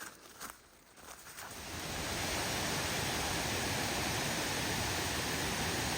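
Rushing water of Flat Creek Falls in Nantahala National Forest, North Carolina, roars as a steady, dense wash of noise, swelling up after a quieter moment and staying loud and constant, close by.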